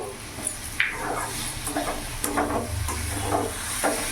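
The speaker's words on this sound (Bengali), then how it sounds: "ভালো করে নাড়াচাড়া করে নেব।" A banana flower and prawn curry sizzles in a pan while a spoon scrapes and stirs it in steady strokes, with a continuous frying hiss underneath.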